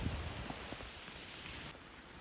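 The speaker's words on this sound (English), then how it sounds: "You probably cannot see the steady mist of rain falling down." Steady light rain falls on a hiking trail, a soft continuous hiss of fine drops with a few faint patters, quiet and even throughout with no voices.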